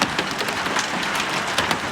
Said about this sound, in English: It's the biggest fucking hail drops I've seen in ages.